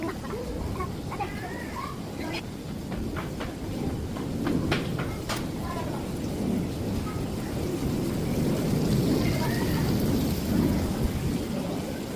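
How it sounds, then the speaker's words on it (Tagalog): A sudden heavy rain shower pours down at Manila Zoo, a dense steady roar of rain with low rumbling throughout, close and loud, with faint scattered voices beneath. "biglang umulan"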